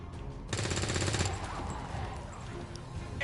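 A rapid burst of automatic gunfire in XCOM 2 rattles for about a second, dense and fairly loud, then fades into a muffled din.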